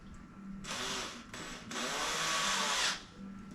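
A power drill driving screws into a lift-top coffee table whirs in short bursts, a brief run, a pause, then a longer steady spin, close by over quiet room noise.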